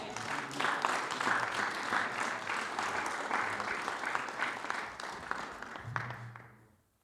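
A church congregation at a firstfruits celebration applauds steadily for several seconds, a moderate wash of clapping heard at some distance that fades out at the end.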